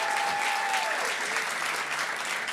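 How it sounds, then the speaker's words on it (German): Steady, dense applause from a comedy studio audience in Berlin, clapping continuously throughout at an even level with no letup. "Und wir klatschen jetzt so richtig schön für alle Künstler"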